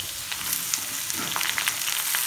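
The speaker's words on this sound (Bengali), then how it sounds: "এবার ডাটাগুলো দিয়ে দেবো" Greens stems, nute data, tipped into a pan of already-fried potato set off a steady, close sizzle. A few sharp crackles and pops rise over the hiss.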